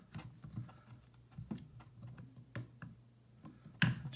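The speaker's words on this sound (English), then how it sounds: "get some tin snips. Bought mine from Lowe's. So you just snip that right off." Tin snips cutting off a thin, flimsy metal collar on a flowtite valve pipe, with a series of sharp clicks and snaps close by and one loud final snip.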